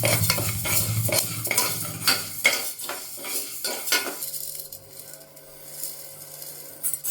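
Moong dal dry roasting in a pan gives a rapid, repeated rattle and scrape of a spatula stirring the lentils for about four seconds, after which quieter clinks and a faint steady tone follow.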